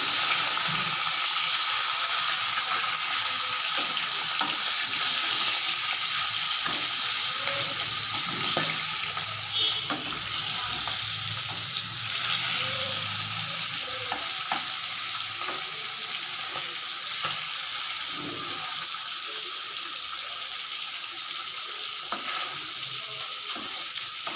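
Steady crackling sizzle of fish frying in hot oil, continuous and close, with occasional soft clinks and stirring.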